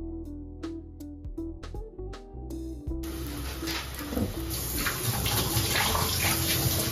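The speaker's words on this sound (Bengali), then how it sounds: "তেল ভালো করে গরম হয়ে গেলে আমি এর মধ্যে পেঁয়াজ কুচি পরিমাণ মতো দিয়ে দিব" Chopped onions dropped into hot oil in a pan start a sudden loud, steady sizzle that keeps building, after a few light clinks and a quieter stretch at the start.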